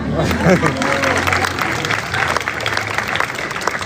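Street magic show audience at the Fremantle Easter Arts Festival clapping steadily for a few seconds, crowd murmur and a voice or two mixed in beneath the outdoor applause.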